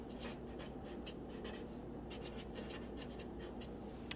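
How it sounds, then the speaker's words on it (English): A pen or marker scratches out short strokes on a board or paper during a compass-rose lecture, a faint series of quick scrapes over a low background hum with no talking. "we're going to write northeast."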